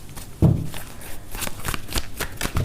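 Tarot cards are shuffled by hand in quick riffling bursts and soft slaps, close and fairly quiet, with no talk over them.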